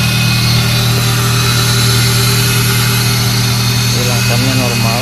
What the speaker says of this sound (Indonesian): Jadi yang berisik ini suara kipas.